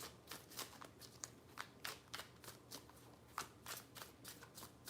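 Tarot cards being shuffled by hand in a quiet room, a series of quick riffling bursts in an uneven rhythm, close and fairly soft, with no talking.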